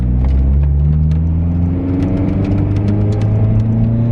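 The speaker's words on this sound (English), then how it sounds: "let's take it out for a little quick spin" A Honda S2000 or Civic Type R (FA5) engine rumbles steadily at close range as the car pulls off, a low mid-frequency drone that climbs slightly in pitch with no talking over it.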